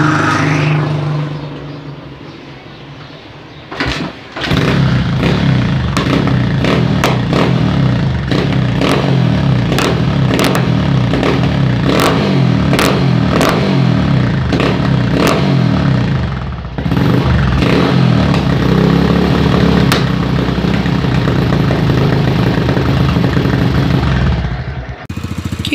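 A 150 cc motorcycle engine is kicked into life after a quiet start, then runs loud and close with a string of sharp revs and throttle blips for over twenty seconds before briefly easing off and revving again.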